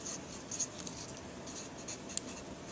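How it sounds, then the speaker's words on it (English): Pen scratching across paper as a word is written on the top flap of a folded paper math foldable, with soft, steady rubbing strokes and a few small ticks, quiet and close with no talking. "on the top flap, you are going to write the word properties, just like so"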